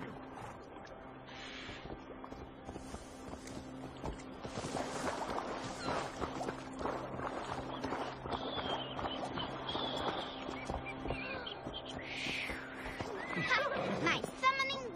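A horse whinnies several times over continuous game music and ambient sound in Assassin's Creed Valhalla, with brief hoof clatter; the neighs are moderately loud and close.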